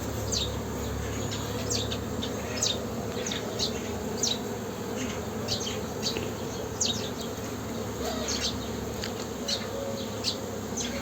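Dense, steady buzzing of many honey bees at a Ruşet hive as foragers bring in pollen, close and continuous, with brief higher whines of bees passing near.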